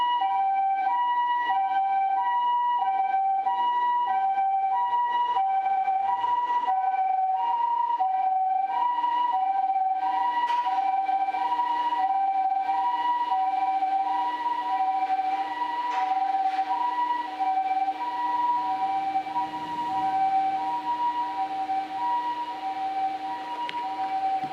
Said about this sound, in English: This is the ambulance siren.